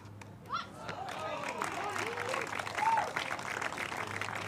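Spectators at a professional pickleball doubles match in Tampa, Florida, break into applause and scattered cheering after a long rally, with the clapping heard at a moderate distance beneath a commentator's voice.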